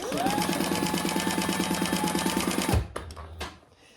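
A sewing machine stitches fabric piping in a fast, steady, rattling run for nearly three seconds, then stops abruptly, followed by a few faint mechanical clicks as the fabric is handled.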